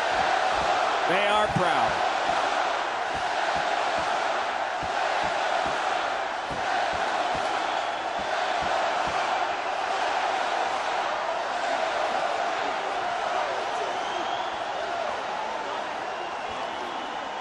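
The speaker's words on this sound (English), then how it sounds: "the chant of the home crowd is for their team" The home crowd at a 2016 Stanley Cup Finals hockey game chants and roars in a dense, steady wall of arena noise that lasts throughout, with a voice briefly speaking over it.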